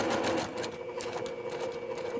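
A sewing machine stitches a linen shift sleeve for an 18th-century undergarment, its steady rapid needle clatter running throughout at a soft, even level.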